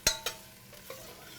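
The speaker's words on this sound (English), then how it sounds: "So now we're going to add our celery and carrots. Okay, we're going to give them a stir around too." Celery and carrots frying in a pot of tomato soup base and stirred with a spoon, giving two sharp scraping knocks and a light clack over a faint sizzle, close and brief.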